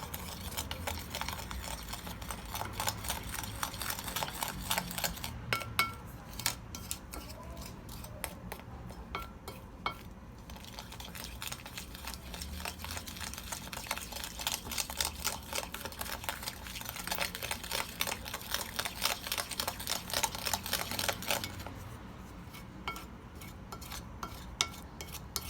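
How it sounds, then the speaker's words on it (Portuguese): Egg yolks, sugar and cornstarch whisked in a separate bowl, a fast continuous scraping and clinking of a whisk against the bowl, steady and close with brief pauses. "agora é só misturar bem"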